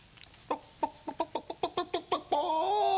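A hen clucks in a quick series of short, evenly spaced calls, then breaks into a longer drawn-out squawk, close and clear.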